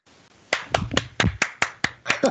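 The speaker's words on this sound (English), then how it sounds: "A great applause." Applause from a conference plenary audience at the close of a talk, sharp scattered claps building into a short burst of clapping with no voices over it.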